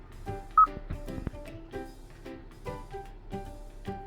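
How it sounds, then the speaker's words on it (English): Keypad dialing tones from a phone call placed through the Bluetooth system of a 2020 Kia, a rapid series of short, clean beeps heard alone and close, one louder tone standing out. "Let's make a call. We can call my voicemail"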